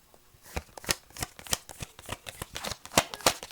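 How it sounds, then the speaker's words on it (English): A deck of tarot cards being shuffled close up, a quick run of crisp riffling snaps and soft slaps repeating in an irregular rhythm, alone and fairly quiet. "Let's start that little shuffle again."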